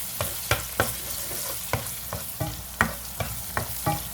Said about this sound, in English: You keep stirring, just like that.